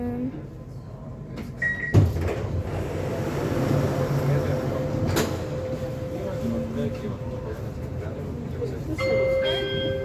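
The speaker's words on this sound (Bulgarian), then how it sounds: "спира метрото. И отваря вратите." Metro train doors on Sofia's M3 line open at a station with a thud and a hissing slide, followed by steady rumbling cabin noise and a chime, with people talking faintly nearby.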